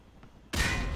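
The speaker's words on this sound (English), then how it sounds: "Toss the grenade down the range to take out several targets at once." A frag grenade explodes down a firing range in the video game MW2R with a sudden loud, broad blast that rumbles on steadily after a quiet lead-in.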